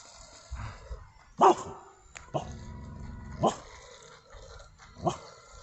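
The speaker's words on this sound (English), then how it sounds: "trying to bark at the boat" A dog close by barks at a boat, giving several short, gruff barks and growly woofs spaced a second or so apart, with quiet gaps between.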